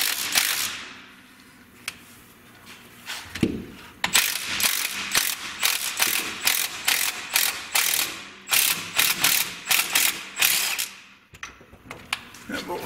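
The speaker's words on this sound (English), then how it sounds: "I'm going to put a jack under the front." Jacking up the front of a Geo Tracker during a suspension lift install gives a steady run of close, rhythmic ratcheting clicks that starts after a quieter stretch and carries on through most of the clip.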